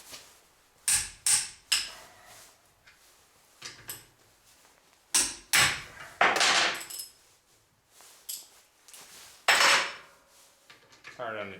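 Metal-on-metal hammer blows strike a wrench while the caps come off a busted rear differential, sharp clanks arriving in uneven bursts with pauses between, loud and close.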